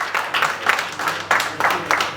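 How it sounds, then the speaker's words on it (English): A small group clapping at a grand opening event for a tech company, with uneven bursts of hand claps close by, swelling and easing in a loose rhythm. "Let's have a huge round of applause"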